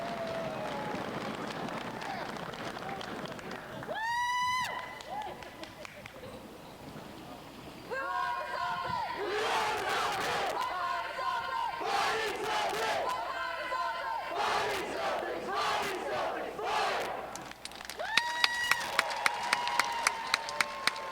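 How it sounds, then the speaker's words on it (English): A high school graduating class in 2020 shouts a group cheer together, with bursts of crowd yelling and whooping rising and falling over about twenty seconds, plus a few sharp claps near the end. "Now let's join together for our final class cheer."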